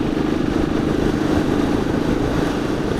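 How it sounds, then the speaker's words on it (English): Royal Enfield 500 Classic from 2017 with a muffled exhaust, a steady low thumping engine note running continuously and fairly close, with no talk over it. "one of the beauties about these bikes is the exhaust note"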